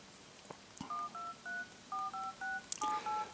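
DTMF keypad tones on a 7-inch A23 tablet: about ten short beeps in quick succession, each tone clear and isolated against a quiet background with a few faint taps between them.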